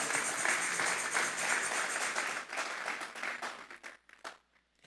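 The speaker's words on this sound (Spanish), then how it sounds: "Vamos a darle una ofrenda de palmas a Dios en esta hora." A church congregation applauds in a dense, loud burst of clapping that thins into scattered claps and dies away near the end.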